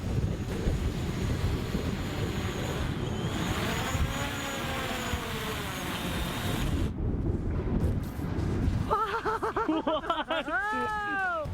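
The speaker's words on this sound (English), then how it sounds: "feel the wind, hear the wind" Steady wind rushes and buffets a small flying drone held outdoors, broadband gusting noise with whining rotor tones rising and falling, continuous and fairly loud throughout, changing character near the end.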